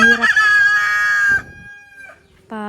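Chickens on a farm, with a hen leading her chicks: a loud, close rooster-like crow with clucking, a short quiet gap, then another call starting.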